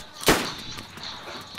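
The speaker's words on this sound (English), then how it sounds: "Someone's shooting at us!" A single sharp gunshot cracks in DayZ, fairly close, followed by faint scattered pops in the background.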